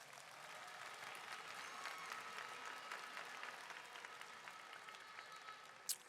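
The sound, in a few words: audience applauding athletes at opening ceremony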